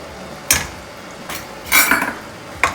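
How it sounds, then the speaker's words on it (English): A spatula clinks and scrapes in a pan as wheat flour roasts in ghee over a low flame, with a few sharp, close metallic knocks and a longer scraping pass between them. "on low flame, we'll keep roasting the wheat flour."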